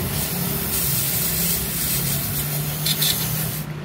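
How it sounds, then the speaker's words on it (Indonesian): Compressed air sprayed from a nozzle while working on a Kia vehicle, a steady loud hiss lasting several seconds with a short stronger burst near the end. "tinggal disemprot angin, nggak disemprot kompresor"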